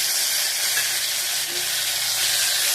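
Chopped tomato frying with radish in hot oil in a pan, a steady close sizzle and hiss with a faint stir partway through, no talking.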